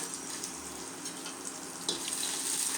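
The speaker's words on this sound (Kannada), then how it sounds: "ಈಗೆಲ್ಲ ಇದು ಫ್ರೈ ಆಗ್ತಾಯಿದೆ" Red chutney ingredients, including Byadagi and ordinary chillies, fry in a pan with a steady moderate sizzle and light stirring scrapes, one brief clatter partway through, no voices.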